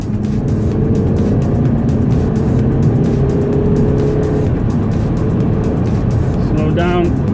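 A Mercedes CLA 220d diesel with an engine fault, driven hard in manual third gear toward the red line, gives a loud, steady engine and road roar that fills the clip, with a brief squeak near the end.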